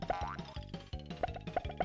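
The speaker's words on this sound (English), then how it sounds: "the only way to tell that you've hit them is the little boing sound" Little cartoonish boing sounds from hitting a boss in the Crayon Shin-Chan 2 video game, several springy bouncing tones that repeat over chiptune-style game music at a moderate level.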